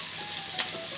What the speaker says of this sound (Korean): 냄비에 베이컨을 먼저 노릇하게 기름을 빼주면서 익힐 거예요.